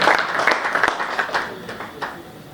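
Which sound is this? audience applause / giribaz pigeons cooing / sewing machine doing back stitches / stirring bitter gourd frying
audience applause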